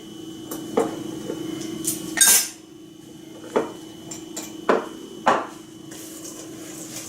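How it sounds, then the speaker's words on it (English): Snickerdoodle dough with eggs and a teaspoon of vanilla is mixed in a bowl, giving a steady run of light clinks and sharper knocks at irregular intervals over a low background hum, with no talking. "you mix this in really good, which doesn't take very long"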